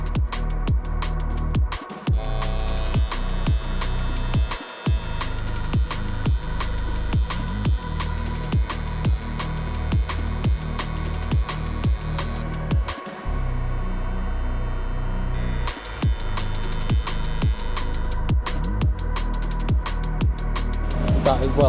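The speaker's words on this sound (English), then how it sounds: "we can get it mounted onto the table solid and start welding" Welding on a heated Bugatti part clamped to a table gives a steady buzzing hum with a dense crackle throughout, broken by a few brief stops, and no talking.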